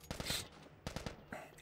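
Gunfire in The Last of Us, a few quick bursts of sharp shots in two clusters, fairly faint and distant-sounding, with no talking.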